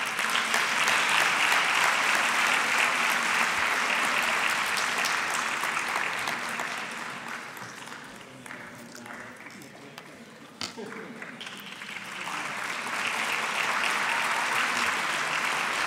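Audience applause at a formal ceremony in Lisbon, loud and sustained broadband clapping that dips to a softer level midway before swelling back to full strength, with voices faintly mixed in.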